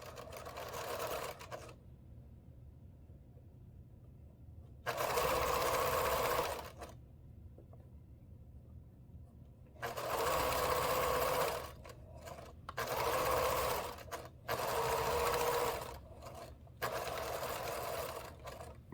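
A sewing machine stitches binding onto a quilt, running in several loud, steady bursts of fast mechanical whirring separated by pauses with low background hum, near and without talk.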